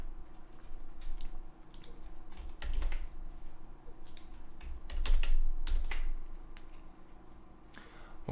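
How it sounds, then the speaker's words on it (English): Fingers type on a computer keyboard while entering table data in Dreamweaver, producing quiet, irregular bursts of key clicks with brief pauses between them, close and alone without voices. "In the next one, I type in"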